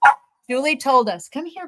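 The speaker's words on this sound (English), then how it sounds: "So sorry for the barking, guys, but he's still in training." A dog barks once sharply near the microphone, then someone speaks over it during a live stream.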